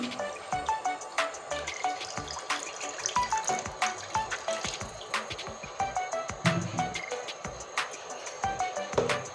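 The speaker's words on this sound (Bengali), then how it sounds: "শাক রান্না করার জন্য প্রথমে লাগবে জল পরিমাণ মতো জল দিয়ে দিচ্ছি" Water is poured into a cooking pot for jute leaves, a continuous splashing, gurgling flow with bright drips and sloshes, close and fairly loud.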